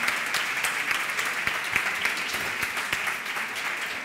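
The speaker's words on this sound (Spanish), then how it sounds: "un aplauso para él, Bernardo Lucena" Audience applause at a live cooking show in Córdoba welcoming a winery guest, a steady crowd clapping of moderate loudness with a few sharper individual claps standing out across about four seconds.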